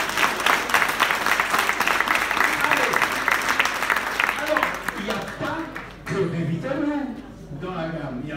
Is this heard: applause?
yes